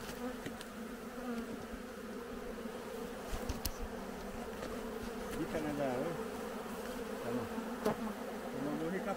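Caucasian honeybees swarm around an opened hive at the end of the honey season, a dense continuous buzz with sharp clicks and handling knocks from beekeepers working the frames outdoors.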